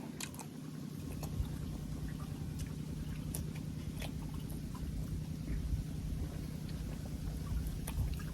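Crisp crunching bites of chewy cartilage from boiled cow ear, close up, repeating irregularly over a steady low background hum.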